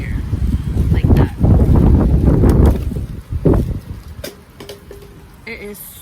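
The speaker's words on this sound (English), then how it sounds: "It is super windy out" Gusts of wind buffet the microphone in heavy low rumbles that ease off toward the end, with a little rustling.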